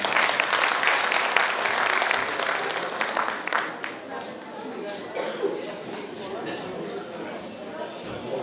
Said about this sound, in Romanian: Dați-le aplauze încă o dată.